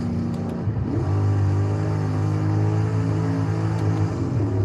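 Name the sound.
stock car engine revving at high RPM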